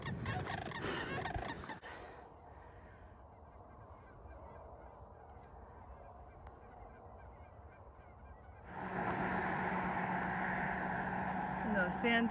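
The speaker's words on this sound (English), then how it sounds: "When those sandhill cranes flew overhead, I could hear these guys starting to squawk." Sandhill cranes call overhead while out on a bike ride past old houses: loud honking, rattling calls ring out at first, fade under a quieter stretch, then swell back strong and steady toward the end.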